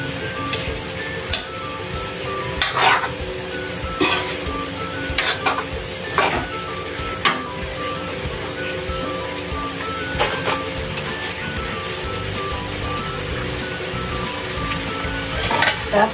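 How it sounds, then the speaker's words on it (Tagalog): Vegetables for lumpiang hubad stirred in a pan, with repeated light clinks and scrapes of a utensil at irregular intervals over a steady low sizzle and kitchen hum. "Haluin lang natin."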